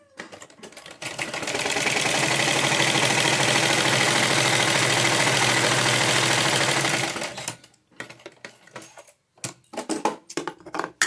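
A sewing machine runs steadily for about six seconds, stitching two panels of a patiyala pajama together, a close, even mechanical whir that stops abruptly, followed by scattered handling clicks and rustles.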